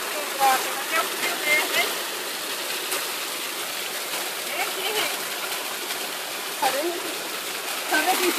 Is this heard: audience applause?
no